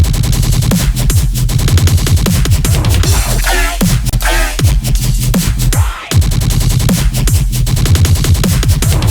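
Aggressive synth drop sounds from a remix, built in Serum: loud, gritty stuttering bass stabs with heavy low end in a fast rhythmic pattern, broken by a brief sweeping riser midway.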